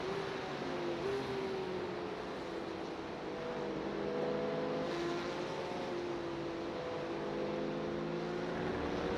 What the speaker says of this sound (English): I just love hearing that V8 thing.